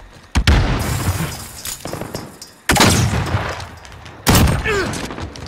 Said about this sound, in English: Bullets hitting metal.